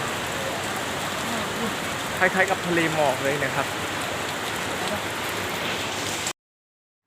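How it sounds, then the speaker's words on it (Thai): Heavy rain pours steadily in Phuket as a dense, even hiss, with someone speaking briefly over it partway through before the sound cuts off. "ตอนนี้ที่ภูเก็ตฝนก็ตกหนักนะครับ"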